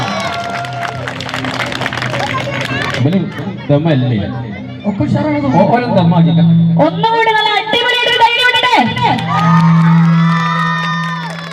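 A stage show audience clapping and cheering, with whoops and shouts mixed into loud voices and crowd chatter, rising and falling throughout.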